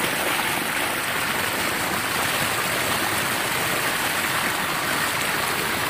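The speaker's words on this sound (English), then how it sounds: "this is how Dave diverts water to the lower field" Steady, loud rush of irrigation water flowing through 10-inch polyethylene pipe to a lower field, continuous and unbroken.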